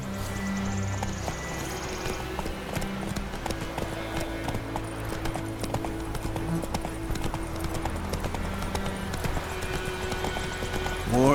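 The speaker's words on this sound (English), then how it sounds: "Come on, Roach" Horse Roach galloping in The Witcher 3 video game, an even rhythmic hoof beat heard throughout under a low game music bed.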